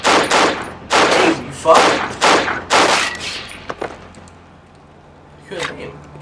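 Several bursts of enemy gunfire in the horror video game Cry of Fear ring out in quick succession over the first four seconds, loud and close, followed by a quieter lull and one more shot near the end, with someone talking over it.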